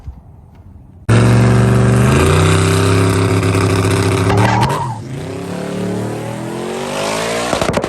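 An LT-powered 6th Gen Camaro launches down the drag strip at Alabama International Dragway, its engine bursting to a loud, close roar that climbs through the revs, drops briefly at a shift, then keeps pulling hard.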